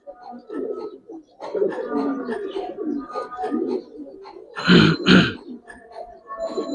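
Pigeons at a pigeon farm coo and grunt up close as birds are let go. Someone talks over them, and two loud bursts of flapping or handling come near the end.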